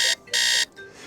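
An alarm clock rings in two loud, steady electronic bursts, the second one longer, followed by a brief quieter tail.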